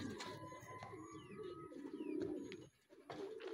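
Soft, low pigeon coos from racing pigeons murmur in a quiet outdoor setting, with faint chirps and light rustling; distant and gentle.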